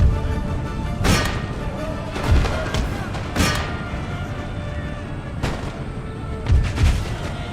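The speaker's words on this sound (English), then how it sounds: "Canister shot fire here." Canister shot artillery fires in the Total War: Empire battle, several loud, close booming volleys spaced a second or two apart over a steady rumbling battlefield din, with a faint voice now and then.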